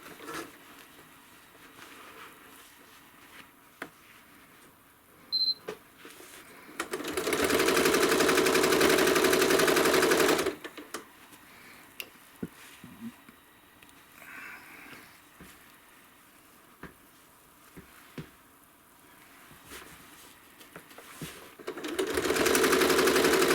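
A sewing machine stitches down a quilt's outer edge, running steadily for a few seconds and starting again near the end, loud and close, with quiet handling noises during the pause.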